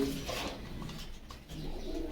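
Pigeons cooing at a busy pigeon market in Bogura, soft low coos recurring through steady crowd murmur and bustle, fairly close.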